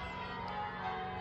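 Church bells ringing on a sunny Sunday morning, heard from an allotment: a steady, fairly faint wash of overlapping bell tones and hum with no talk.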